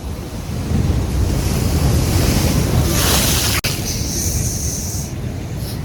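Sea waves crash and wash in close by on a shore, a steady roar of surf with wind buffeting the microphone.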